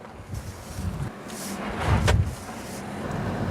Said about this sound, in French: on va tester tout de suite la capote pour voir et profiter un petit peu du soleil